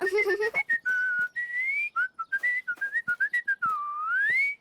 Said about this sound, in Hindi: तो बिना किसी डिब्बे के सीटी बजा लेती है।